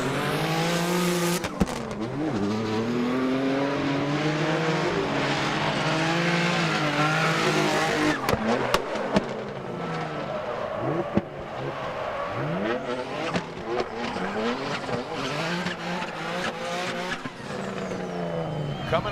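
Formula Drift car on a celebratory lap at Salt Lake City, with its engine loud and close, revving and wailing through rising and falling pitch sweeps, tire squeal mixed in and a commentator talking over it.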